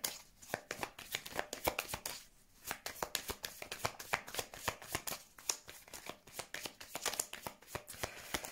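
A deck of tarot cards is shuffled and cut by hand, with rapid close riffling and flicking bursts in an uneven rhythm and brief pauses between runs.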